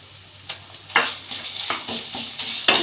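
Spice paste sizzling in hot oil tempered with nigella seeds, stirred with a spoon in a pan: a run of close scraping strokes over a steady frying hiss.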